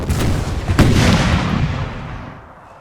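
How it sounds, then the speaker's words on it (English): Artillery fire in Napoleon: Total War, a heavy booming cannon volley with a sharp crack near the start and a long rumbling decay fading out over about three seconds, no talk. "Fire the guns, if you please!"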